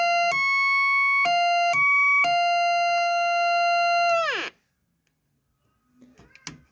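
A loud electronic siren from a Maxon MCB-60AW CB radio chirps in short bursts, then holds one steady wail that drops in pitch and cuts out, followed by faint clicks and a brief voice.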